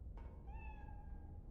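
A cat meows once in the video game Iron Nest: Heavy Turret Simulator, a clear, drawn-out tonal call over a steady low rumble of game ambience.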